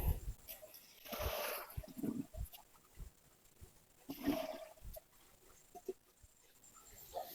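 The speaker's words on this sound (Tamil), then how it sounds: "இப்போ நம்ம இதுலேயே வடிச்சிருவோம் இந்த ஜலத்தை." Cooking water drained from a pot of boiled turmeric roots, with two faint, splashy pours of water separated by quieter gaps and a few soft knocks.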